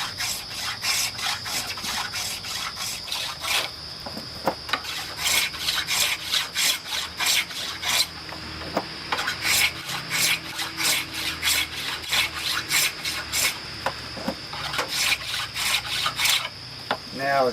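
A wooden chair spindle is hand-shaped into minute facets, giving steady close rasping and scraping strokes in a repeated rhythm with short pauses between passes, loud and alone without talk.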